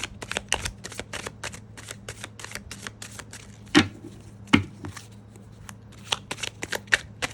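Tarot cards shuffled by hand in a long run of quick, crisp riffling bursts, with a few louder snaps partway through, close and clear with no talking.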